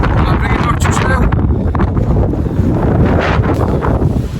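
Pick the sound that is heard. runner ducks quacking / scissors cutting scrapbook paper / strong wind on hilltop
strong wind on hilltop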